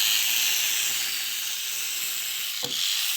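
A Vanguard Sonic Auldey mini 4WD toy car's small electric motor runs after being switched on, a steady, high-pitched whirring hiss that holds level throughout with one brief click near the end.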